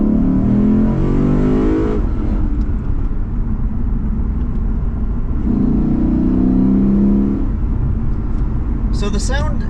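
A Lexus RC F Track Edition in Sport Plus mode accelerates hard, its engine rising through two loud surging pulls separated by a gear change, heard from inside the cabin.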